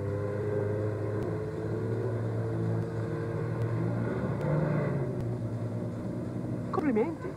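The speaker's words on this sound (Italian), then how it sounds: "Ed ecco un acqua scooter." A jet ski, or water scooter, drones and rumbles steadily at close range with a low engine hum. A voice comes in near the end.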